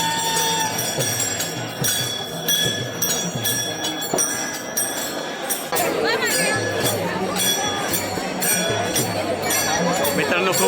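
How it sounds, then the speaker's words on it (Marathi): Dense crowd chatter fills a palkhi procession in Pune, steady and close, with bells and clinking mixed into the busy babble and a rise in activity midway. "खूप गर्दी आहे"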